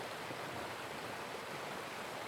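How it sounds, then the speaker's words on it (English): Barnafoss waterfall in West Iceland, a narrow river churning through dark lava rock, gives a steady, broad rushing roar of turbulent water that holds even and continuous throughout, with no voices. "a narrow churning river carves its way through dark lava rock. This is Barnafoss, the Children's Falls."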